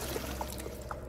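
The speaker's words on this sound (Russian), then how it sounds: "Допустим, я налью сюда воду, и что произойдет?" Water pours into a pipe in the video game Doors Paradox, a brief soft trickling stream with small gurgling splashes, fairly quiet and alone.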